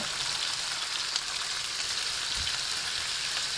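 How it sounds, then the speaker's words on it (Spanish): Chicken sears in an oiled pan over high heat, giving a steady, dense sizzle and crackle that holds evenly throughout at moderate loudness, with a brief low thump partway through and no talking. "Vamos a marcar el pollo a fuego fuerte"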